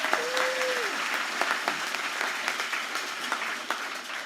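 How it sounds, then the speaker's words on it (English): Steady applause from a sizable audience fills the whole stretch, dense clapping at an even level with a brief tonal whistle near the start. "let's all give a round of applause for the DLP Lending Fund"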